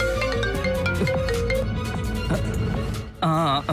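A warbling electronic ring sounds briefly at the very end, after a stretch of busy background music and noise.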